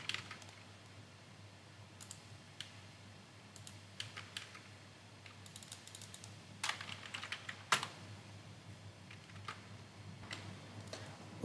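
Typing on a computer keyboard while coding a React app with Firebase: quiet, irregular key clicks in uneven bursts over a faint steady hum, with occasional louder keystrokes.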